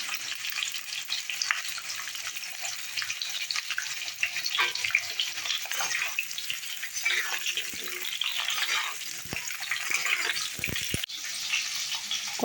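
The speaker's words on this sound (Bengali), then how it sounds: "উচ্ছেগুলো আমি ভালো করে ভেজে নেব।" Sliced bitter gourd fries in hot oil in a wok, giving a steady, dense sizzle with occasional scraping and stirring clatter, close and continuous without talk.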